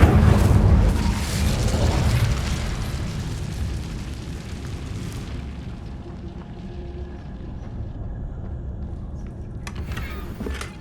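An Incendio fire spell is cast in Hogwarts Legacy. A loud burst of fiery roar and rumble opens the clip and fades into a lingering crackling hiss, with a few sharp game effects near the end.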